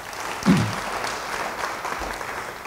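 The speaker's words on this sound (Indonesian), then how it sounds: "Yang mau beri tepuk tangan buat dia." Church congregation applause rises briefly after a sermon line, a soft wash of clapping that peaks early and then thins into a low, diffuse patter across the hall.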